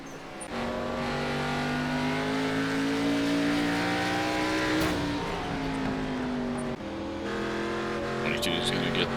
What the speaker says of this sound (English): 11 car spinning out of the corner.